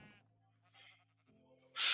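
Sheep bleating in the Minecraft video game, several short wavering bleats in quick succession, fairly quiet with a brighter burst at the end.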